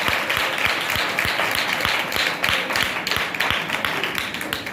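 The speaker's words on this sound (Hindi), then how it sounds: "बजाय ताली एक दफा जोरदार सारे मिलकर सब बजाएंगे।" A worship congregation claps together in a steady, even rhythm, with many hands striking on each beat, loud and close throughout, with no voices over it.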